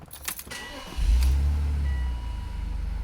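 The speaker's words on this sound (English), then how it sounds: "I'm going to start my car" A few metallic jingles, then a car engine cranks and catches, settling into a steady low idle rumble close by.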